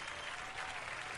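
Canned applause sound effect set off by mistake during a livestreamed Super Mario RPG unboxing for Nintendo Switch, a short steady burst of clapping heard alone.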